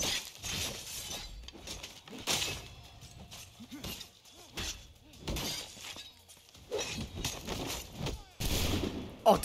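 Bursts of gunfire in Assassin's Creed III crack out in several separate volleys, some sounding like breaking glass, with a voice speaking in the gaps.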